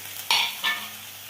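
Onion frying in a pan with garlic and chili paste gets stirred, two quick scraping strokes over a steady close sizzle, with no talking.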